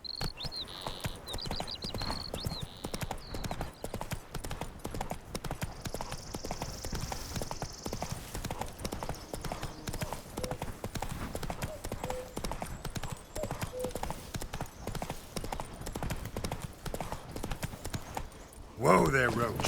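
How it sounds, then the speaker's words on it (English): Horse hooves clip-clop steadily at a walking pace in The Witcher 3, a continuous rhythmic patter of footfalls running the whole stretch, with faint ambient game sounds and a brief louder burst near the end. "Whoa there, Roach"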